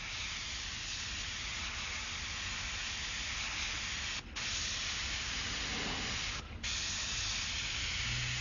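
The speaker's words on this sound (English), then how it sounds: "And I'm just filling in, it's like coloring between the lines with the airbrush, doing a very thin line with it." An airbrush sprays paint in a thin line along a strip of masking tape, giving a steady, close, continuous hiss that dips briefly twice and then resumes unchanged.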